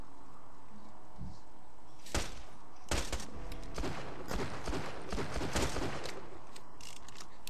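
Pistol fire in Borderlands 2: sharp, loud reports come in a rapid cluster of shots with short gaps between them, led by a couple of isolated bangs, all over a steady game background.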